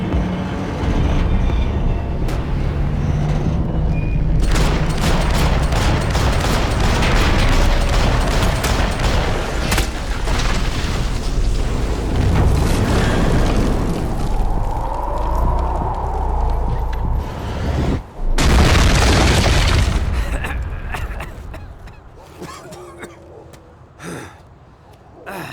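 Gunfire and explosions in the video game Max Payne 3 form a loud, dense barrage of shots, blasts and crashing debris that runs throughout and fades toward the end.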